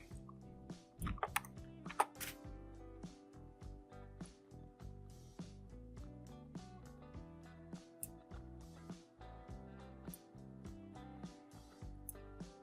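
Computer keyboard typing at a desk, with soft, steady key clicks in irregular bursts that include a firmer press, fairly close and quiet.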